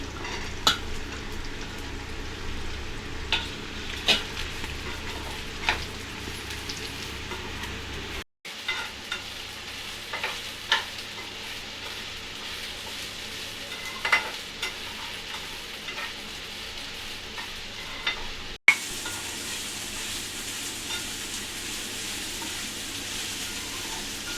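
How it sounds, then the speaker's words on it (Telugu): Chopped ridge gourd pieces are added to softened onions in a hot pan for a ridge gourd and sesame dal curry, giving a steady low sizzle with occasional clinks and stirring scrapes throughout, and no talk. "ఇప్పుడైతే బీరకాయ ముక్కలు వేసుకుంటున్నాను"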